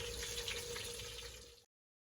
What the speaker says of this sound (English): So I'm going to go ahead and fry this one without the crackers breadcrumbs.